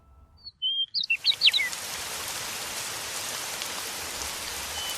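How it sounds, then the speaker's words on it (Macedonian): Steady rain falls in a dense, even hiss that fills the whole clip after the first second, opening with a brief cluster of bird chirps before the downpour takes over. "Дождот носи 50 децибели."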